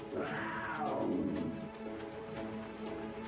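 A single drawn-out meow from a puma rises and then slides down in pitch, heard close over a low background hum.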